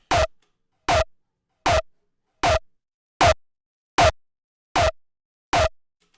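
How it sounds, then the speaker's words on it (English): A synth punch layer run through heavy distortion strikes eight times in an even, steady rhythm, each hit short, tight and gritty with a quick decay and silence in between. "I'm pulling it through quite some heavy distortion"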